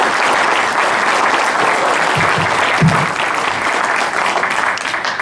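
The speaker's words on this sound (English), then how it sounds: "you're not supposed to clap" An audience at a Maryland governor candidates forum applauds loudly and continuously, a close, dense wash of clapping with a few brief low murmurs partway through.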